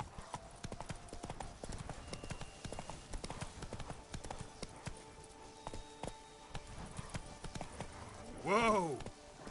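Roach, a horse in a video game, trots with a steady clip-clop of hooves over a continuous bed of game ambience, ending in a short loud whinny-like swell near the end.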